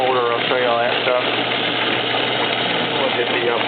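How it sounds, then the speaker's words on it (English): A Raynor overhead door hoist motor on a 10x7 door hums steadily and continuously at close range, its even mechanical drone filling the whole stretch, with speech briefly audible at the start. "We're going to run this so you can see what this sounds like."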